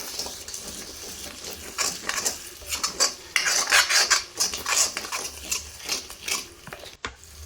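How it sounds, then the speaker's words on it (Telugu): Tomato paste fries in oil inside a kadai while a metal spoon stirs it, with repeated scraping and clinking against the pan over a soft, constant sizzle. The stirring is close and comes in uneven bursts, and no one speaks. "ఈ టమోటా పేస్ట్ని ఆయిల్లో బాగా పచ్చివాసన పోయేంత వరకు ఫ్రై చేసుకోవాలి"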